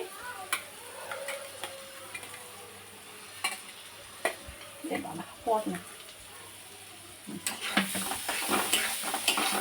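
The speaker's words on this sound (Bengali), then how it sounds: "আচ্ছা আলুটা এবার দিয়ে দেবো" Potatoes go into a hot frying pan: scattered clinks and scraping stir sounds, then a louder hiss of frying that builds over the last couple of seconds, close by.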